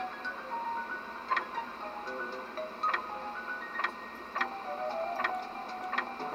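Ticking clicks sound in Shadow of Destiny at a steady, roughly one-per-second pace over a humming, tonal game ambience, clear and close with no one talking.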